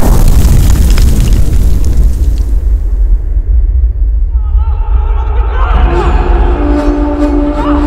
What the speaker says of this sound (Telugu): నేనేరా మిమ్మల్ని కాపాడడానికి బాంబు వేసాను